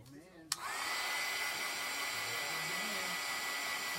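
A hair dryer drying chalk paste on a painted sign clicks on after a brief quiet moment, then holds a constant close airy roar, with a faint voice murmuring underneath.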